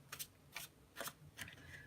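Tarot cards riffle-shuffled in four quick bursts at steady intervals, close and fairly quiet, with no voices.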